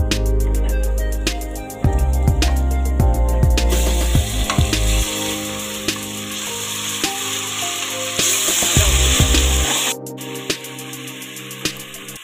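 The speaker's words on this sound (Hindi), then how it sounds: "और अब इसके अंदर हम अदरक लहसुन डाल देंगे और उसको अच्छे तरीके से भून लेंगे।" Ginger and garlic frying with onions and potatoes for biryani, a loud crackling sizzle with repeated spoon scrapes and metallic clinks against the pan, alone without talk.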